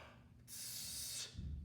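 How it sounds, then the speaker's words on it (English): A person draws a big breath in during a live kettlebell workout, a near, steady airy hiss lasting under a second, then a softer low exhale-like rumble. "Big breath in."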